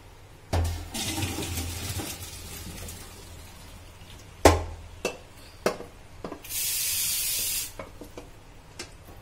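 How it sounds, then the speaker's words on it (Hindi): Water poured off boiled jujubes cooked with salt and turmeric for pickle, a splashing pour at the start followed by clatters of utensils and a short hissing rush later on. "इसका पानी फेंक देगी।"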